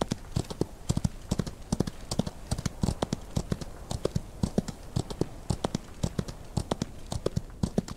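Horse hooves clip-clop in a steady, brisk walking rhythm in the Old West video game Outlaws of the Old West, close and moderately quiet, with no talk.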